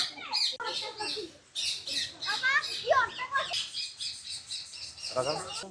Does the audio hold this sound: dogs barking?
no